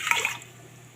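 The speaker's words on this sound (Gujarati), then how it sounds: "તો આ રીતે 3 વાટકા પાણીને નાખી દઈશું" Water is poured from a bowl into a cooking pot for khichdi, giving one short, bright splash that quickly fades into quiet.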